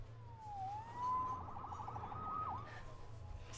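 A wailing police siren from the Spider-Man PS4 video game rises and falls in a few sweeping tones, steady and moderately loud over a low engine-like hum, with no talk over it.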